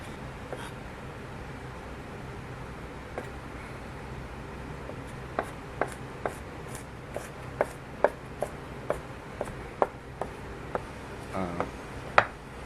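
A knife chopping Chinese cabbage and daikon radish on a cutting board, steady distinct knocks that come faster and louder in the second half, close and clear over a low kitchen hum.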